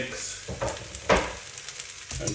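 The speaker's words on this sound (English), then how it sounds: "mix this cheese in now, and the heat will melt it and get it right in amongst the pasta" Cheddar cheese being stirred into hot pasta for a creamy beef pasta bake, with soft sticky stirring sounds and light sizzling, a sharper scrape near the middle, close and with no talking.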